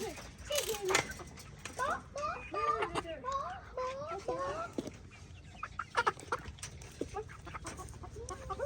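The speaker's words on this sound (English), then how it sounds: "That is a rooster." A rooster and chickens outdoors, with several clucks and cackling calls repeating close by while people talk over them.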